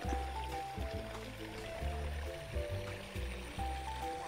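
Water running in a creek on a farm, a soft gurgling trickle with rippling bubbly pulses, close and fairly quiet, with no voices.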